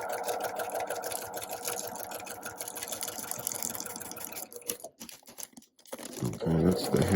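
A sewing machine stitches quilt fabric with plain all-American thread in a fast, steady mechanical chatter, then stutters and pauses as the needle passes over a pin head, and resumes with low handling noise at the end.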